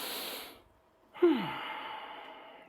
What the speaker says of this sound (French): je vais inspirer un peu plus fortement car je suis debout